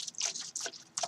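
A few quick drips of thin, low-viscosity liquid fall from a dripper bottle in an uneven patter, close and crisp, with brief gaps between the drops.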